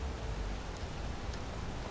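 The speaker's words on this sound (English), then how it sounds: "why does it sound like it's raining? Freaking waterfall." Constant rushing water noise from a waterfall in Skyrim, a steady broadband hiss, with no voices.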